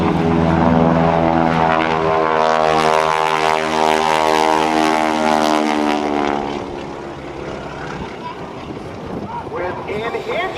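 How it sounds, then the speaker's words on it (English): A Super Stearman biplane at an airshow drones with a loud, throaty radial engine through aerobatics, its pitch sweeping as it passes, then the roar fades to a distant hum while a commentator talks. "let's watch Greg fly even more aerobatics in his Super Stearman"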